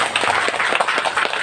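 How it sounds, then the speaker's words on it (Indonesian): Applause from an audience at an Indonesian Quran school year-end celebration event, a steady dense patter of clapping filling the whole short stretch at moderate loudness with no speech over it. "Tepuk tangan dulu."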